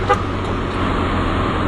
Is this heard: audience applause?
no